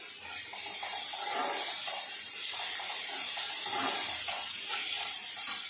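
Tomatoes hitting a hot pan with onions and spices, giving a broad, loud, continuous sizzle and hiss that swells and eases slightly, close up and without talk.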